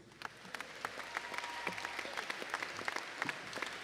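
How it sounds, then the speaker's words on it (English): A crowd at the ʻAha Mele Hawaiian music event applauds the panel of judges, giving a brief, steady round of clapping with many hands at moderate level and a few crisp nearby claps. "And then one more round of applause for our esteemed panel of judges"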